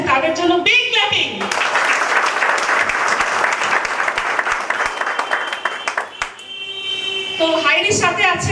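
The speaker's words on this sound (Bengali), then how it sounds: "রেসপেক্টেড স্যার সুজিত মন্ডল স্যারের জন্য বিগ বিগ ক্ল্যাপিং।" A crowd claps loudly at a Highrich Online Shoppe meeting in Baraipur, sustained dense applause framed by music at the start and end.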